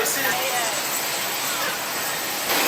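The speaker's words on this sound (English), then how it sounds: "There's our cute little plane." Small airplane engine droning steadily at a distance, a broad continuous roar with a voice talking over it.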